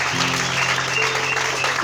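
Applause from a church congregation, a steady dense clatter of clapping that fills the whole moment at even loudness, with a sustained tone underneath.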